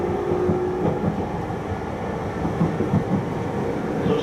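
An E231 series electric train on the Tokaido Line runs along with a continuous low rumble and rattle of wheels and carriage, heard steadily from on board.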